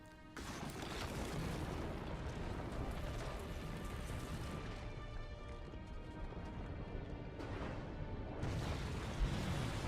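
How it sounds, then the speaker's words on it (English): A deep, rumbling boom and sustained roaring eruption from a cannon blast in Sonic Unleashed, loud and continuous, layered with crashing debris and dense game sound effects, with no speech. "This thing called Dark Gaia Energy gets fired in the earth by Eggman's cannon, destroying everything in its path"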